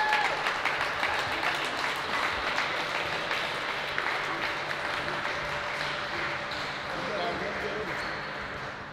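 A crowd applauds basketball playoff winners as they collect medals, a sustained, dense round of clapping with scattered voices and cheers underneath.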